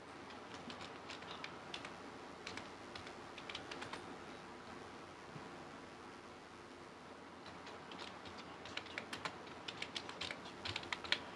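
Someone types on a computer keyboard in Microsoft Word 2019, making soft, quick key clicks in uneven bursts against a faint steady room hum, heard alone without speech.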